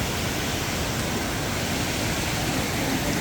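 High, fast-flowing creek at a trail crossing in Cloudland Canyon State Park, a constant broadband rush of water, loud and close, with no pauses or voices.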